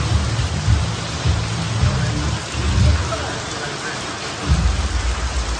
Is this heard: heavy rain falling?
yes